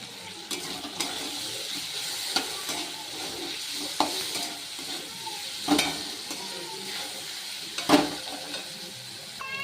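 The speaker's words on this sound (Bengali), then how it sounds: "দেখুন আলুটা ভাজা হয়ে গেছে।" Potatoes frying in a pan with turmeric and salt, a steady soft sizzle broken by occasional scrapes and stirs of a spoon, close and moderately quiet with no talking.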